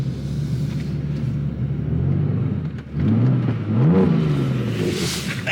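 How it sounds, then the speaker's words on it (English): A car engine revs hard and rises in pitch several times during a reverse burnout in snow, rumbling and whirring close by as the tires spin, with no talking. "I'm doing reverse burnout"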